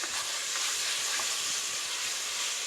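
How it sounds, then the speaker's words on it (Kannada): Homemade ginger, garlic, green chilli and coriander paste fries in hot tempering oil for pulao, giving an even, close sizzling hiss with no talk over it. "ಇದನ್ನು ಸ್ವಲ್ಪ ಒಗ್ಗರಣೆಯಲ್ಲಿ ಹುರ್ಕೊಳ್ಳೋಣ"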